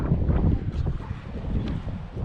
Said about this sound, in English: Of course the wind's blowing harder because I really don't like the wind.